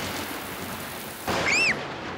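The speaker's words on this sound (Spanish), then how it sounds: "los truenos de la tormenta están muy fuertes" A cartoon thunderstorm: steady rain hiss with a sudden loud thunder crack and rumble partway through, plus a brief whistling swoop, with no talking.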